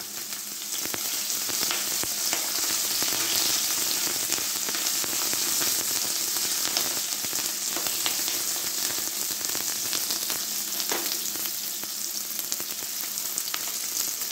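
Onions sautéing in a hot pan for chicken do pyaza, a dense, even sizzle and crackle held close and steady for the whole stretch, with faint occasional stirring ticks and no voices.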